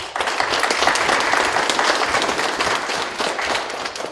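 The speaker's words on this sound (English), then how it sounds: "please give Samora a big round of applause" Audience at a school board meeting giving a student a round of applause: dense, steady clapping from many hands, fairly close and loud, continuing for the whole stretch.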